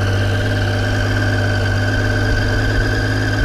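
A motorcycle engine with a Dominator slip-on exhaust holding steady at 2000 RPM, a close, loud, even drone with a strong low hum and no talk.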